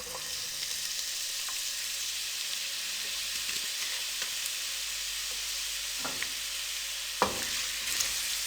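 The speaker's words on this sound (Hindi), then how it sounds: "अब प्याज़ों को हम हल्का ब्राउन कर लेंगे।" Two finely chopped medium onions fry in cooking oil in a pan with a steady close sizzle, broken by a few soft stirring knocks, no voices.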